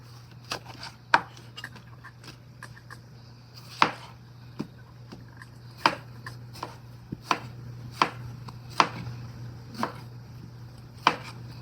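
Aroma tomatoes are chopped with a knife on a board, a dozen or so crisp separate knocks at an uneven pace over a low steady hum, close by and without talk.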